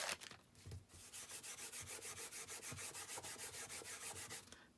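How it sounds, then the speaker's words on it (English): An embossing buddy rubbed back and forth over a piece of card, giving a steady rhythmic series of soft scratchy strokes, close and alone with no talk. "I'm just going to get my embossing buddy over this piece of card"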